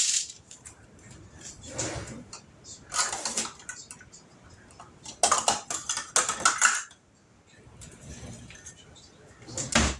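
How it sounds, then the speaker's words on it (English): Dry pasta shells and elbow macaroni tumble into a pot of beef vegetable soup in a few bright rattling bursts, with clinks of a measuring cup and pot between quieter stretches of kitchen noise. "we're going to add about a cup of pasta to this"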